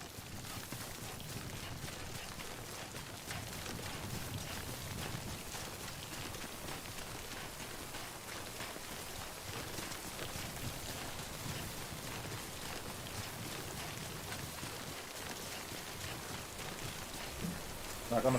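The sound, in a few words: rain (timefall) in the video game Death Stranding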